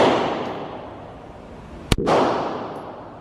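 A single sharp, loud gunshot cracks at a shooting range, standing out over steady outdoor background noise.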